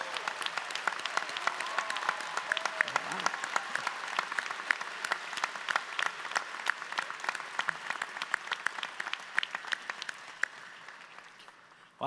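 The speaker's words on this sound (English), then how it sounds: "Let's give them a round of applause." Sustained audience applause at a Rutgers School of Management and Labor Relations convocation, honoring double majors: dense, steady clapping from a large seated crowd that holds strong for most of its length, then tapers off near the end.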